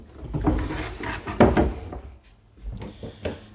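Curved wooden cabin doors on a Salthouse Corsair boat being refitted are handled up close, giving a series of irregular knocks, bumps and short sliding scrapes, with a few louder wooden thuds spaced over a few seconds.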